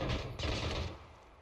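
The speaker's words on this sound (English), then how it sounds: "Not able to outrun the fully automatic fire of the pizza gun that is Fury." Dense burst of fully automatic pizza gun fire in the video game PUBG, a loud, fast stream of shots that pauses briefly, then resumes and trails off.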